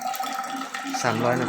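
Water is poured into 100 grams of starch as the first step of making ethanol with baker's yeast. A short splashing pour is heard under a person speaking Thai.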